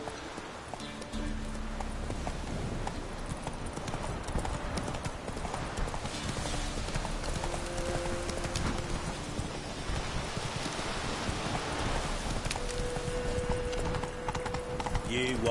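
Geralt's horse Roach galloping in The Witcher 3: Wild Hunt, steady fast hoofbeats throughout, joined by rain-like ambience and game music, with a faint whinny possible.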